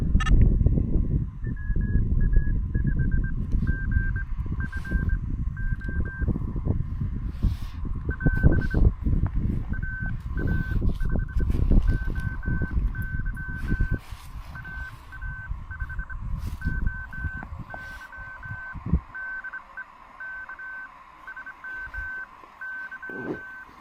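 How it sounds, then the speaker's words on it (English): A mobile phone sounds a series of short, repeated beeping tones in rhythmic bursts during outdoor portable ham radio operation, clear over a rough background of wind and handling noise, with no talk. "You're hearing my phone here."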